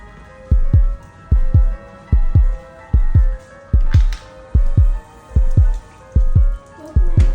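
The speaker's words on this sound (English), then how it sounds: "The sound was a heartbeat." A loud, steady heartbeat sound effect pulses in a regular double-thump rhythm, about nine beats in seven seconds, each throb strong and close with no voices over it.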